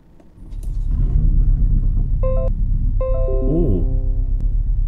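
Modded Alfa Romeo Giulia car engine in a trucking simulator video game, a deep, loud rumbling idle rising after a quiet start, with a few brief electronic tones over it and no talk.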